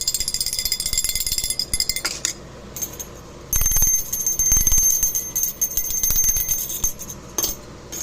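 A small perimeter alarm noisemaker rings with a steady high-pitched metallic jangle, nearly continuous, briefly cutting out around two seconds and again near seven seconds, close and moderately loud with no talk.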